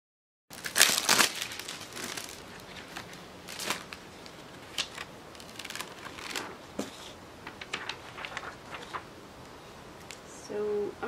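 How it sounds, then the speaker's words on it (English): A thin plastic bag crinkling and rustling as it is pushed inside a t-shirt, close and irregular bursts of crackling that continue throughout, with no talk. "I'm gonna place the plastic bag inside my t-shirt."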